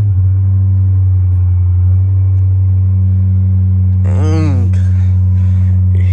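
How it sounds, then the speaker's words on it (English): A 2009 Chrysler 300C with a 5.7 Hemi V8 and Flowmaster Super 10 exhaust cold-starts: steady low idle rumble throughout, with a brief starter crank and rev flare around the middle, recorded close. "We're gonna get the first cold startup."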